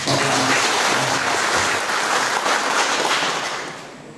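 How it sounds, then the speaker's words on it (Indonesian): Applause from an audience at a state election campaign event in Tambunan rolls on as a dense, loud crackle of clapping and then fades toward the end, with no speech. "Beri tepukan."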